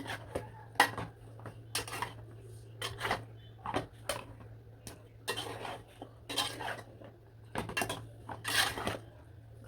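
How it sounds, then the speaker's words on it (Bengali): Chicken pieces stirred into spice paste in a pot, heard as repeated close metallic scrapes and clinks of a spoon against the pot in irregular bursts, over a steady low hum, with no talking. "সেই মাংসগুলো কিন্তু একদম দিয়ে ভালো করে লাড়াচাড়া দিয়ে দিব"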